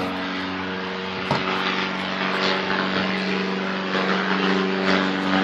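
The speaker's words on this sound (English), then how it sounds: "Sorry about this airplane." Airplane flying overhead outside a 2008 Genesis 912 trailer, a loud sustained engine drone with a steady tonal hum that swells slightly and persists throughout, plus one brief knock near the start.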